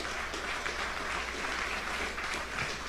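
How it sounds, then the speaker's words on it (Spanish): A church congregation claps in sustained, dense applause, a steady wash of many hands at moderate distance with no voices on top. "dale un aplauso al Rey."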